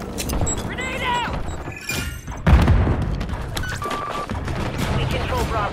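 Gunfire and a grenade blast in Call of Duty Modern Warfare 3 multiplayer, with rapid shots and a heavy boom midway, loud and close, under a busy mix of combat noise and game voice chatter.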